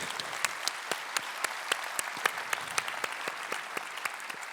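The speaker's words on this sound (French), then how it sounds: "On peut peut-être l'applaudir déjà, d'ailleurs." A conference audience at an annual information meeting in a Paris congress hall applauds a guest banker, heard as sparse, fairly distant clapping with distinct individual claps over a steady hall wash.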